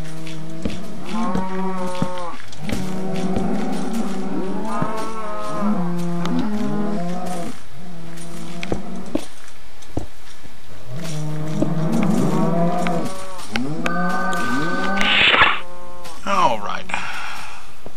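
Cattle in the Minecraft video game low repeatedly on a farm, with overlapping moos in rhythmic bursts from several animals and a brief pause midway before more mooing resumes.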